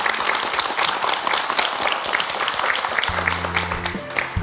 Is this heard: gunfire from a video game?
no